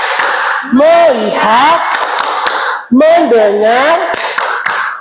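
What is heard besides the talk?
classroom 'focus clap' rhythm by students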